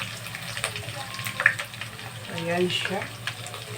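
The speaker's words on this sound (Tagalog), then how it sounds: "ilagay na natin ang sibuyas at bawang" Onion and garlic hitting a hot pan with pork for Bicol Express, giving a steady frying sizzle with light clatter as a voice talks over it.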